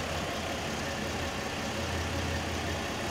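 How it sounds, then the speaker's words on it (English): A 2010 Chevrolet Impala LS engine idling steadily nearby, a smooth continuous low hum with no talking. "Vehicle sounds real good as it's running."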